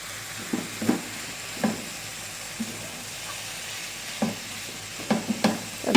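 Chicken samosa filling with red chilli, crushed coriander, cumin and garam masala being stirred in a pan: soft sizzling underneath intermittent close scraping strokes of the spoon, a few louder knocks near the end.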